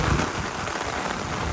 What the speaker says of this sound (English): Pretty rainy.